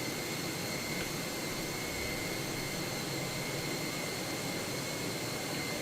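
Steady broadband roar of an Airbus A320-family jet engine idling during single-engine taxi in a flight simulator, constant and unbroken with faint high whine tones.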